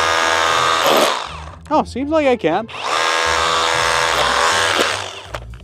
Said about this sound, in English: I'm gonna try this jackhammer to see if I can jackhammer through it.